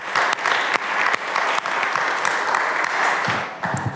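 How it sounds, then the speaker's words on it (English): A warm round of applause for a speaker about to present fills the room, steady and dense crowd clapping that continues throughout and tapers slightly at the end. "please give a warm round of applause for her."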